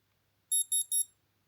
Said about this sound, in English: It has a beep.